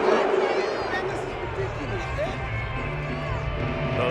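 A stadium crowd in Madden 22 at a Thanksgiving Day game between the Buffalo Bills and New Orleans Saints keeps up a steady roar of booing and displeased noise at a distance, with some indistinct chatter mixed in.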